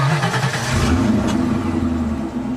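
A standard car engine hums steadily while driving along a road, a continuous mid-pitched drone with slight revving swells and no talking.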